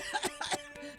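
Several harsh coughs in quick succession, fairly close and moderately loud, with a rough, raspy texture.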